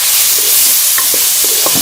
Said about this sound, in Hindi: मैंने मसाले के साथ और कैरी के साथ मिर्चों को अच्छी तरह से भून लिया है।